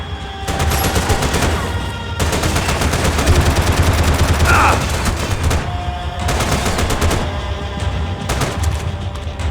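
Rapid bursts of automatic gunfire in the Max Payne 3 video game, loud and dense, with sustained volleys broken by brief pauses and a few booms mixed in, no talk.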